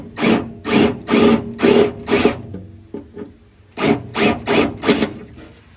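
A drill whirs in repeated short bursts biting into a rivet head at an angle on a VW Beetle front apron, loud and close, with a brief pause midway before several more quick bursts.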